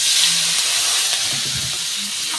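Chopped onion and tomato sizzling in hot oil seasoned with five-spice and a slit green chilli, for a tilapia curry; a loud, steady, close hiss with no talking.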